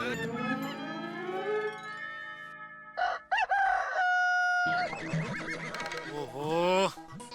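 A man imitates a rooster's cock-a-doodle-doo in a long, loud, strained crow, surrounded by music and other voices.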